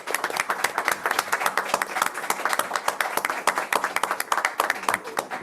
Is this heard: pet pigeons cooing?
no